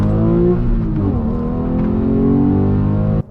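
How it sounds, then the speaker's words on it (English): A base Porsche 911 Carrera pulls past 4,000 RPM, engine and exhaust singing in a steady, loud, high-revving wail heard from inside the car, easing briefly before climbing again, then cutting off. "The exhaust noise sounds great"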